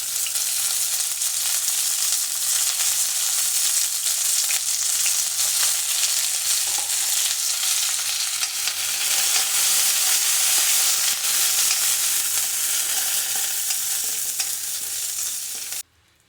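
Onions and curry leaves fry in a pan with a loud, continuous, close-up sizzle and hiss that holds steady for about sixteen seconds before cutting off abruptly.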